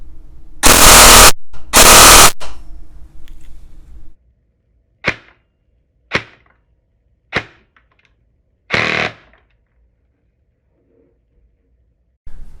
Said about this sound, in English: Very, very loud gun, and then full auto.